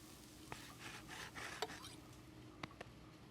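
A pepper grinder in a cartoon kitchen grinds pepper with a soft gritty rasping, running in rough bursts with a few sharper clicks, close and fairly quiet.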